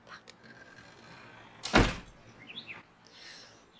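An indoor door is handled with a single sharp thump or knock, loud and close, followed by faint scraping and rattling.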